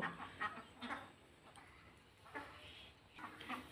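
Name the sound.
poultry clucking and calling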